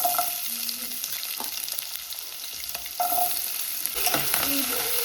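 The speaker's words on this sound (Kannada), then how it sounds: "ಒಂದು ಸ್ವಲ್ಪನೇ ಸಾಸಿವೆನ ಹಾಕ್ತೀನಿ" Mustard seeds crackle and sizzle in hot oil, a continuous close frying hiss with occasional sharper pops and a brief stirring scrape midway; no one speaks.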